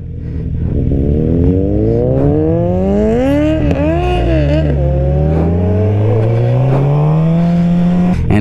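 An old-school motorcycle engine revs hard and close, its pitch climbing and falling through several throttle blips before settling into a rising drone, loud and unbroken, with no talking.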